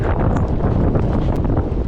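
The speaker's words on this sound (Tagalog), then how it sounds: "hinahangin ako sobrang lakas ng hangin" Strong New Zealand wind buffets the microphone in loud, continuous gusts, roaring and rumbling with no voices.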